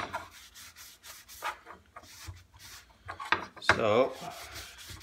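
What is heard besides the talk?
polishing a metal kunai blade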